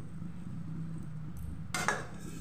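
Curry of pointed gourd with cashew, yogurt and green chili paste stirred in a cooking pan: a quiet low background, then a brief burst of utensil scraping and clinking against the metal near the end.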